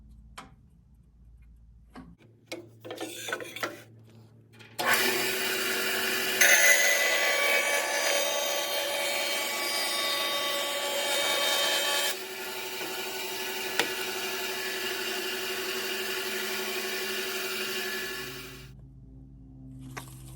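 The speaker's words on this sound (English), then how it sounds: "then we'll smoothen it out on the sander" A power sander smooths a bentwood guitar fretboard ring with a steady, close grinding whir that runs for about fourteen seconds after a few faint knocks, then winds down.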